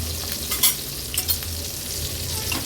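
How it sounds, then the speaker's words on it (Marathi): Pomfret roe fries in a pan with a constant close sizzle and crackle, a few sharper pops and stirring scrapes rising above the hiss. "बॉईल न करता पण झटपट अशी ही हलव्याची गाबोळी पण तळून होते"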